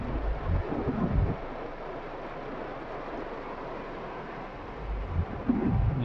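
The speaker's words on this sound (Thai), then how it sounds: "ฝนตกอย่างนักเลย" Steady heavy rain at a hilltop viewpoint in Thailand roars as a dense broadband wash, with low rumbling gusts swelling near the start and end.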